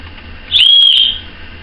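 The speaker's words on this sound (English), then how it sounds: "this buckle that I got on here has a little emergency whistle on it." A single shrill, high blast from a small emergency whistle on a bracelet buckle sounds close by for about half a second, cutting sharply through quiet background hum.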